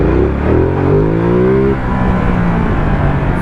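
A Ducati motorcycle on a short test ride pulls hard, its engine tone climbing loudly for under two seconds before dropping back to a rougher, steadier drone as the throttle eases.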